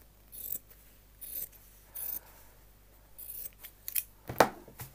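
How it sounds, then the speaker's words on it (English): Scissors snipping through a piece of shirt fabric, five or six sharp crisp cuts spaced unevenly, close and fairly quiet with no one talking. "Let me cut a piece of that off."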